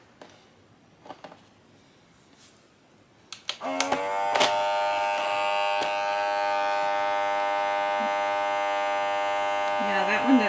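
A vacuum sealer machine starts up after some handling clicks and runs with a steady loud electric buzzing hum for several seconds, close by, with a brief voice near the end.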